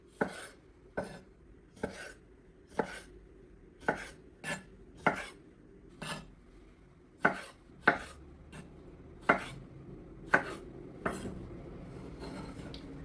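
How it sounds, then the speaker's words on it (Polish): A knife halves cherry tomatoes on a cutting board in about fourteen sharp, close chops, each a crisp tap against the board, spaced roughly one per second with quiet pauses between them and no talk. "Ja będę używał pomidorów koktajlowych i kroję je tylko na pół"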